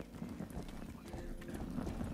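Horse hooves clip-clop in the video game Rustler near a tournament ground, a quiet, steady run of hoofbeats with no talking.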